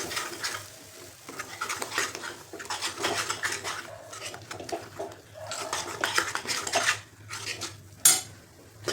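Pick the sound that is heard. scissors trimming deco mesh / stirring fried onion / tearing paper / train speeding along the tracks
stirring fried onion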